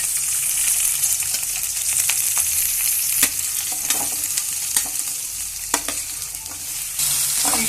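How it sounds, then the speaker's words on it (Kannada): Sambar ingredients fry in hot oil for a village-style country chicken sambar, a steady close sizzle broken by sharp scrapes and clinks of a spoon stirring the pan, with no voices. "ಇಷ್ಟು ಇಂಗ್ರೀಡಿಯೆಂಟ್ಸ್ಗಳನ್ನ ಎಣ್ಣೆಲಿ ಒಂದು ಸ್ವಲ್ಪ ಕ್ಲೀನ್ ಆಗಿ ಫ್ರೈ ಮಾಡ್ಕೋಬೇಕು"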